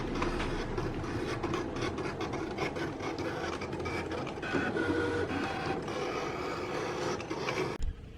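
Brother ScanNCut machine cutting out stamps, a close steady mechanical whirring and rasping with rapid clicking steps, continuous for several seconds before stopping abruptly near the end.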